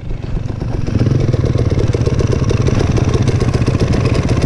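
An enduro dirt bike engine at the 2017 Sawmill Enduro on Cow Mountain, running steadily and loud close by with a rough, continuous mid-pitched drone and slight clatter.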